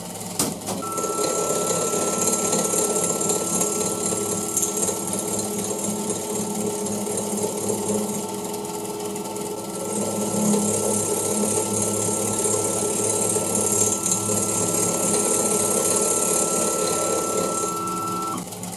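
A MAXNC mini mill spins at 2,000 RPM while cutting a 3D printed pulley, giving a steady, loud mechanical whine with a high-pitched tone. The sound runs on without talk, with a slight swell partway through.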